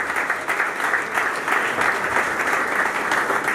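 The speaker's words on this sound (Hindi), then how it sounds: "आप अहबाब के भरपूर तालियों में" A hall audience at a welfare organization's oath-taking ceremony applauds steadily, continuous clapping that stays loud and even from start to finish.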